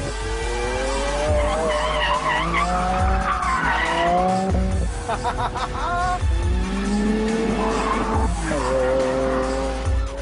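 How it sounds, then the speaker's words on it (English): A Lamborghini Aventador LP 700-4 V12 on a track, cornering hard: loud, continuous tire squeal and skidding over the engine's steady roar, with pitch swinging up and down through the bend. "I'm in a V12 Lambo. I just threw it at a corner at insane speed and it went round."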